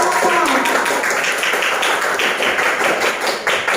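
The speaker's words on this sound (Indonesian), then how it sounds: "tepuk tangan untuk Rasid dan untuk semua" A crowd claps steadily and loudly, many hands applauding together in a dense, continuous patter from start to finish.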